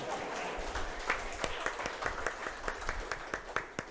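Scattered applause from a small audience at a formal academic address, sparse distinct claps in an uneven rhythm rather than a full ovation, moderately quiet.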